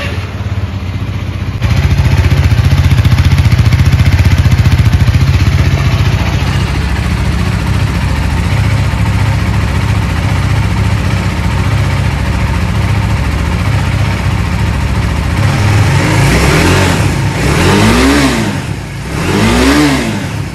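A KTM RC 390 motorcycle engine fires up and settles into a loud, steady idle close by, then near the end is blipped through two sharp revs that rise and fall.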